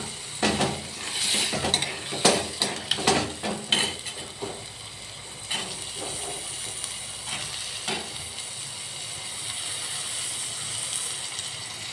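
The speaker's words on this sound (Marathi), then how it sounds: "आता आपण शेंगा टाकूया. चवळीच्या शेंगा." Cowpea pods being dropped into a pan of masala and stirred, with clattering thumps and scraping over the first half, then a steady low sizzle of frying.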